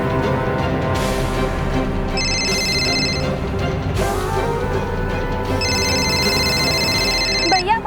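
A telephone rings in two bursts of bright, repeated electronic trills over a tense, dramatic music score, sounding loud and close indoors.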